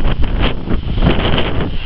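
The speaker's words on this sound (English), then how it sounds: "the wind is bitterly cold" Loud, gusty November wind over Lake Huron buffets the microphone with a continuous roaring rumble, cold gale conditions with no voices.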